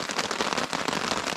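Dense, crackling patter of rain falling on a woodland hammock camp, steady and close without pause, with no voices.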